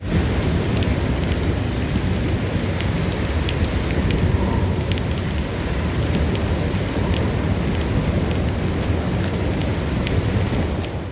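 Heavy nighttime downpour with lightning over Elazığ, a dense steady roar of rain on surfaces filling the whole stretch at constant loudness, with low thunder rumbling beneath it and no voices.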